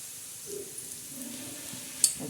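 Soft sizzling of egg bhurji on a hot griddle with light scraping of a spatula, ending in a sharp metallic clink.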